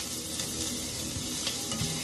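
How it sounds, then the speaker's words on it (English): Shrimp hit a hot cast iron frying pan and give off a steady, close sizzle, a constant crackling hiss with no voices over it. "You can hear that nice little sizzle."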